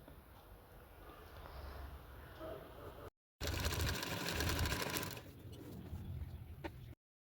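A sewing machine stitches a folded seam on a new kurti, its fine rapid clatter running steadily through the clip, rising into a louder close burst midway, then easing back before stopping.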